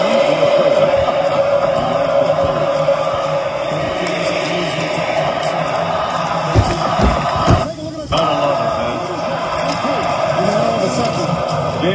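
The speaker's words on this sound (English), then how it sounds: "Listen to the crowd." Hockey arena crowd at an NHL game roars in a steady, dense wall of cheering and chanting for the full stretch, loud and enveloping, dipping briefly near the end before swelling again.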